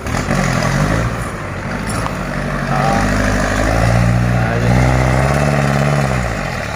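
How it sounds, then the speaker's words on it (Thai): A Kubota L5018 tractor with a loud aftermarket exhaust idles and revs close by. Its rough, throbbing engine note rises and falls several times over a constant rumble, with no speech. "โหดมากครับรถไถเรา อุ้ยเสียง เสียงสะใจมากครับ นี่รถไถ"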